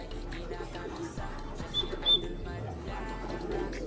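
Pigeons at a club loft giving soft low coos, with faint chirps and whistles over a steady outdoor background.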